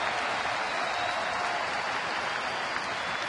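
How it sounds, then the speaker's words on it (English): A baseball stadium crowd in Philadelphia during a Washington at Philadelphia game gives off a steady, broad roar of cheering that swells slightly, filling the space evenly with no distinct voices standing out. "Crowd getting a little louder now."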